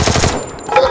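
Rapid burst of video game gunfire in a ranked squad match, several close, loud shots in quick succession fading into a brief quieter tail.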